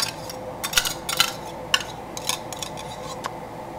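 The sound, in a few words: egg yolks being added to a bowl in a pan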